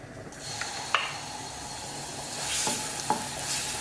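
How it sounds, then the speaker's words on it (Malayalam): Garlic paste frying in hot olive oil in a kadai, a steady close sizzle with a few sharp scrapes of stirring. "ഓയിൽ ചൂടാകുമ്പോൾ അതിലേക്ക് 1/2 ടേബിൾ സ്പൂൺ ഗാർലിക് പേസ്റ്റ് ചേർത്ത് കൊടുക്കാം."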